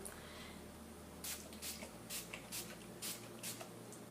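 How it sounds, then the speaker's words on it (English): Several short spray bursts from a pump bottle of makeup setting spray, about six quick puffs in a loose rhythm, close and fairly quiet. "I'm going to be setting this makeup with the Project Beauty Spray Set Go Makeup Setting Spray."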